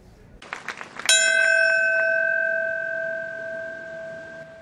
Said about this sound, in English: a single toll of a bell marked the moment when the first of two planes struck the World Trade Center